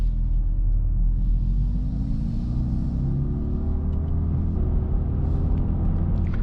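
A 2025 Mercedes A35 AMG facelift accelerates in its most aggressive drive mode, holding third gear around 50 km/h, with a loud, steady engine drone whose pitch climbs slowly and evenly, close up and with no talk.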